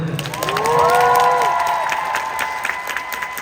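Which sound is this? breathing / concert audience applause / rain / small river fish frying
concert audience applause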